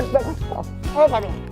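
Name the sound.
pet dog barking while playing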